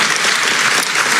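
Loud, dense audience applause at a child care policy speech, a continuous close wash of clapping hands with no voices over it.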